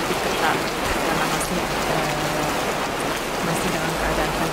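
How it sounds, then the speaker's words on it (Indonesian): Steady rain pours down across a riverside park in Singapore, a dense continuous hiss of drops striking surfaces, close and even throughout with no pauses. "sekarang hujannya udah turun, terpaksa aku harus lari kembali ke dekat restoran yang tadi"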